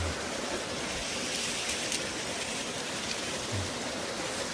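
A mountain valley stream flows steadily in a rural hillside setting, a constant broadband rush of water that stays even and unbroken throughout, with no talk.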